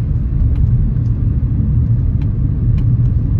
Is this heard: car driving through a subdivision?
yes